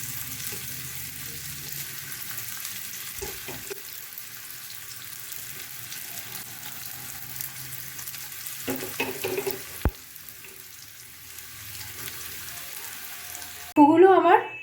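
Pieces of tofu, lowered one at a time into very hot oil, fry with a soft, continuous sizzle close by, broken by a few sharp clinks of a utensil and a brighter burst of crackling at the end.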